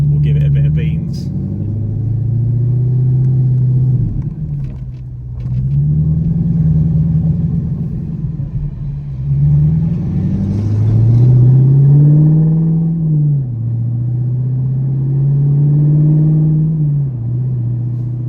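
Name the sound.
Audi R8 with Quicksilver exhaust driving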